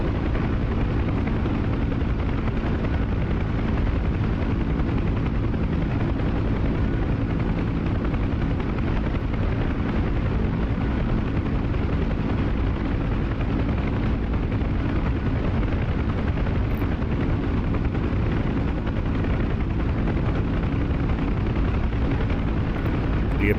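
Apache attack helicopters fly in the DCS combat flight simulator game, their rotors making a steady, loud, dense drone that holds unbroken through the whole stretch, with no talking.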